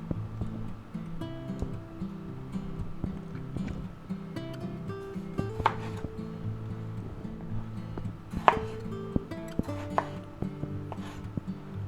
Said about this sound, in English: Then we'll go ahead and slice them up.